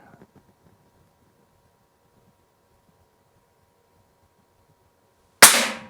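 A Gamo P900 IGT .177 pellet pistol fires a single sharp, loud shot near the end, with faint rustling and handling noise before it.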